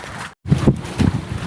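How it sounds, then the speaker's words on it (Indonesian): Strong sea wind gusts across a bamboo fishing lift-net platform offshore, a steady close rumbling buffet with one brief dropout before the blustery roar returns. "angin ngejos mulai jam 4 nih"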